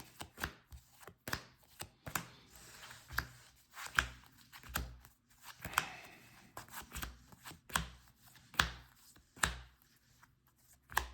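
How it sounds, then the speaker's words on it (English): Magic: The Gathering cards being shuffled by hand: a steady run of crisp, papery snaps and flicks, close by, with no talking. "So we can try to shuffle these up a little bit"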